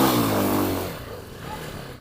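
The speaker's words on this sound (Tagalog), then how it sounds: "Carlos, gusto mo bang paharurutin ko ang motor mo, anak?" A motorcycle engine revving close by, loud and buzzing at first, then easing down and fading into a lower rumble over about two seconds.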